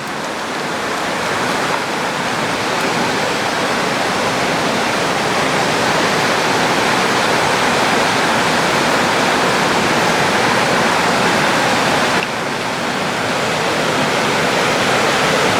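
Rainwater rushing down a flooded outdoor path after heavy rain, a steady, loud, close broadband wash of flowing water with no pauses.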